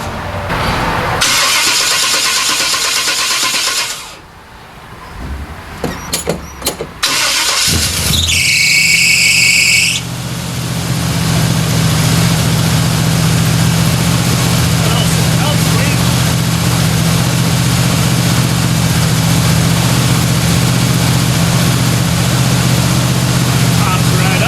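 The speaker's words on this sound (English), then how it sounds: "Let's fire this thing up with some new spark plugs, and it ought to run a heck of a lot better" A Chevy C10 truck with new spark plugs cranks with a whirring starter and squealing bursts, catches after a few tries, and settles into a loud, steady, rumbling idle close by.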